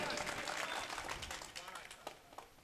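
An audience claps at a mehfil where ghazals and poetry are being recited. The dense burst of applause is strongest at first and then thins out, mixed with a speaking voice.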